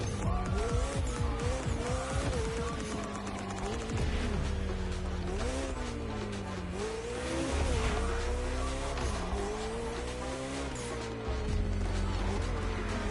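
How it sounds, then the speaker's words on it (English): Hypercar in the racing video game The Crew Motorfest, its engine droning and rising in pitch through repeated gear changes, loud and continuous with tire squeal over about thirteen seconds, no talk. "Let's try this with a hypercar."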